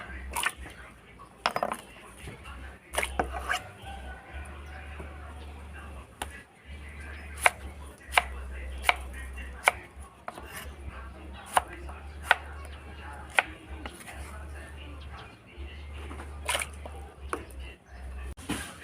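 A knife chops repeatedly through firm coconut palm heart on a board, sharp irregular knocks over a low steady hum, close up with no talking.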